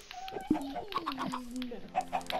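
Short clucks and squawks from a chicken in Minecraft, repeated in bursts over an electronic game-like backdrop with a steady tone and occasional voice.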